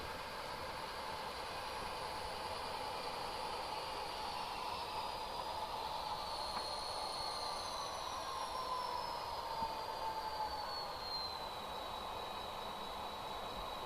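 An HO scale model train pushes a line of freight cars toward a tank car on a yard layout, giving a steady, continuous whirring motor hum with a slowly falling whine. It stays even and moderately loud throughout, with no talking.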